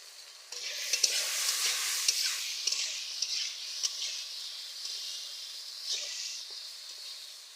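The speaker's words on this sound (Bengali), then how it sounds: "মাছ ভাজা ওই তেলের মধ্যে আমি সজনে ডাঁটাগুলো ভেজে নেব।" Moringa drumsticks seasoned with salt and turmeric fry in oil left from frying fish, giving a steady bright sizzle with stirring scrapes in a village kitchen.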